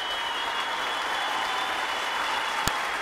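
Sustained applause like a dense steady crowd clapping, uniform and unbroken, with one brief sharp knock near the end.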